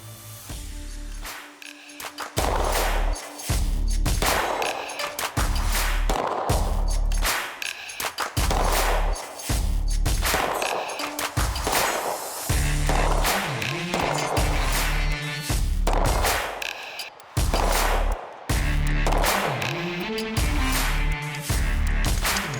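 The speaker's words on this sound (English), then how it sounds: "Let's give it a few shots." A Walther PDP duty pistol fires outdoors at a 50-yard target, giving about ten sharp, loud shots in a steady rhythm with short pauses between them.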